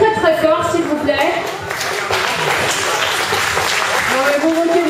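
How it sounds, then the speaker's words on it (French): Audience applause for robotics teams at a regional robotics cup competition, a broad, sustained wash of clapping lasting throughout, with voices and crowd noise mixed in. "Est-ce que vous pouvez les applaudir, s'il vous plaît?"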